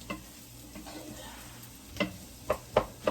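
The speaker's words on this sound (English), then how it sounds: "So I'm going to let them continue sauteing," Vegetables sauté in a soup pot under a soft, low sizzle, with a few sharp utensil clicks and scrapes toward the end.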